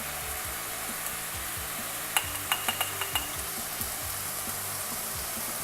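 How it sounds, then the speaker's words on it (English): Turmeric, chili and coriander powders sauté in hot oil in a pan, a soft continuous sizzle broken by a quick series of sharp metallic spoon clicks against the pan as they are stirred. "Saute these nicely for a minute."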